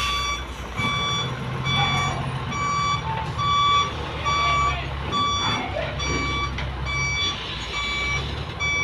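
A 20-footer trailer truck reverses in a tight spot, its evenly spaced reversing beeps ringing out over a rumbling idling engine, with people talking nearby.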